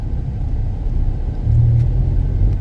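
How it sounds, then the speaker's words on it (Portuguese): Concrete mixer truck with a rotating drum holding 8 to 10 cubic metres of concrete, on a city avenue in Itapema, Brazil: a steady low rumble of engine and churning drum, swelling briefly louder midway, with no talk. "esses caminhões de betoneira aí, gente, é o que gira"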